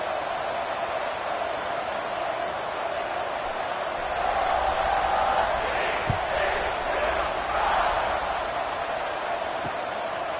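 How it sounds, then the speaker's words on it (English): Stadium crowd in the College Football 26 video game, a steady broad roar that swells midway, with a few faint thuds underneath and no clear words. "this crowd is buzzing after that last score"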